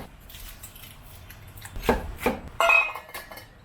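A knife cuts celery and onion into large pieces on a board, giving a few close, sharp chops and scraping clacks that grow busier toward the end, set against a quiet room.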